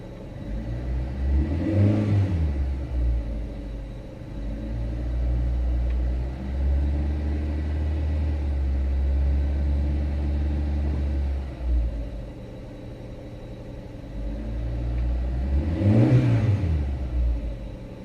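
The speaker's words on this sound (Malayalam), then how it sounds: "ഇനി നമുക്ക് വണ്ടി പതുക്കെ ഒന്ന് റേസ് ചെയ്ത് നോക്കാം." An old Maruti Wagon R engine idles steadily, then is revved twice, once near the start and again near the end, each rev rising sharply and falling back to a loud, close rumble with no talking.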